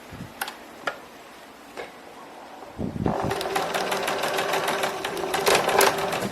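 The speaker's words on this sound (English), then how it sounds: "Sew down to the midpoint," A sewing machine stitches a dart on a zero-waste pleated skirt: a few isolated ticks, then a steady, close, rapid mechanical whirring that runs continuously through the second half.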